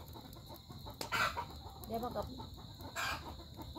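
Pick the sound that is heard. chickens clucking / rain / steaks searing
chickens clucking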